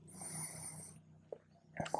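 A long, deep breath is drawn and released during a beginner Hatha yoga flow, a soft airy hiss that fades into quiet before a few small movement sounds.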